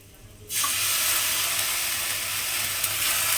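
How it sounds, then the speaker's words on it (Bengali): A loud, sudden hiss erupts as water is sprinkled into flattened rice frying with spices in a pan, then settles into a steady close sizzle that runs on to the end. "আর আমি এর মধ্যে দিয়ে দেব অল্প সামান্য একটু জলের ছিটে"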